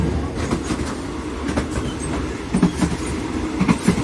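A third-class carriage of a Thai train runs along the rails with a continuous rumbling roar and irregular clacking wheel beats, heard from inside the car with no talking.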